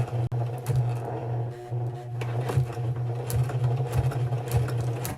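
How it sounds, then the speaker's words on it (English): A sewing machine runs steadily with a constant mechanical whir and rapid stitching chatter, close by and fairly loud, with no talking. "So to newcomers with the sewing machine"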